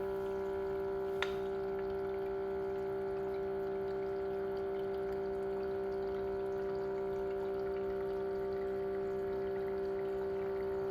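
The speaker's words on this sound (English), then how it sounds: "just draining all the water from the reservoir into the boiler, I'm guessing" A Keurig K Mini coffee maker pumping water from its reservoir into the boiler, a steady low mechanical hum with a constant tonal whine and faint flowing water, unbroken and even for about eleven seconds after one brief click.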